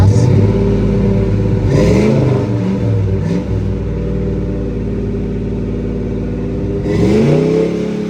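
A 1987 Ford Bronco engine with Flowmaster Super 40 exhaust revving, a deep, loud, rumbling idle broken by several throaty blips of throttle that rise and fall, recorded up close.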